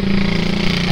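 Heavy construction machinery, including diaphragm wall equipment, excavators and cranes, works at an underpass construction site in Solo. Engines drone in a steady, loud low rumble throughout.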